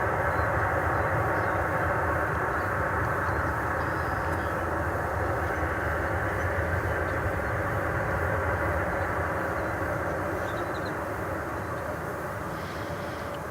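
An American Airlines jet arriving from Guadalajara at DFW Airport gives a continuous broad engine roar, heard from a distance and fading slightly toward the end.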